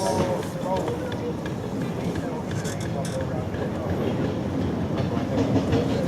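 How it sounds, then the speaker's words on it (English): A train rumbles past steadily with rhythmic clattering at a museum rail gala, loud and close, while people talk over it. "It's polar bear, look. Just his favourite train, I think."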